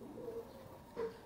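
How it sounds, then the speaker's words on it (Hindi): Heera Lal pigeons coo softly at close range, two low throaty coos spaced apart over a faint background. "ये उनके कबूतर आए हैं"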